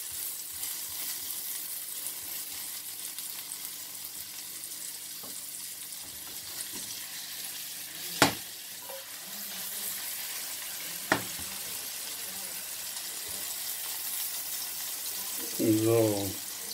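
An omelette with onions and tomatoes fries in a pan over a low flame, giving a quiet steady sizzle with a couple of sharp clicks and a brief clatter near the end.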